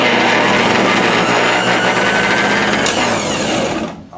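A small engine's starter motor whirs continuously at a high pitch, loud and close, then winds down and stops at the end.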